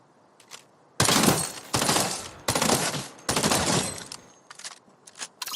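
Three loud bursts of rapid gunfire from a burst-fire weapon in a shooter video game, each lasting under a second and separated by short pauses, with fainter clicks and shots around them and no talk.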